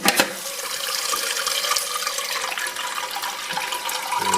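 A Roca D2D dual flush toilet cistern refills after its flush valve is replaced, with a steady, close hiss of rushing water running without a break the whole time and no talking.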